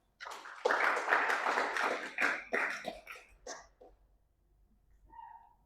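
A church congregation claps together in praise during a sermon, a dense burst of applause that swells for a few seconds and then quickly fades out.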